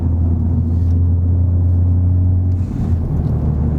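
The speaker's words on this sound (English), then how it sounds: "And without it, you get so much more intake noise." Ford Focus ST engine intake noise, a loud steady low droning rumble from inside the car that shifts pitch near the end, with no talk.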